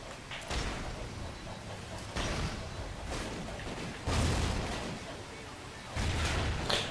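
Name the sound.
grenade explosions and gunfire in Call of Duty Ghosts video game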